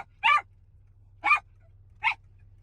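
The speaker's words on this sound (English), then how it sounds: "I don't know if anybody else has a Yorkie that barks at everybody and everything." A Yorkie named Parker barks three times in sharp, high yips spaced about a second apart, close and loud over a low steady hum, with no talking.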